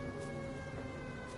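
A World War II air raid siren sounds in the video game Everybody's Gone to the Rapture as a steady, droning wail that hangs at a distance, continuous and fairly faint.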